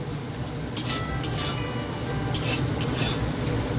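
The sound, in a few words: frying bori lentil dumplings in a pan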